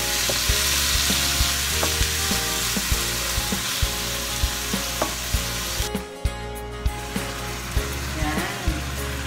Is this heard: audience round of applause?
no